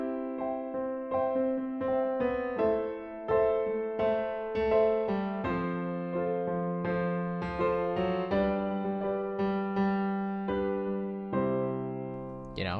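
A pop bass line plays alone in steady, syncopated rhythmic patterns, with repeated plucked notes shifting between a few pitches for a lively groove.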